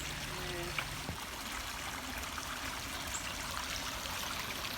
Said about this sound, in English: The water sounds cool, don't it?